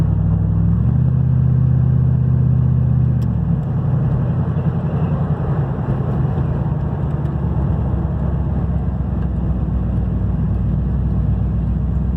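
Ford Bronco with exhaust leaks rumbling while driving with the windows up, a loud, steady, deep engine and exhaust drone heard from inside the cab, the pitch shifting slightly early on, with no talk.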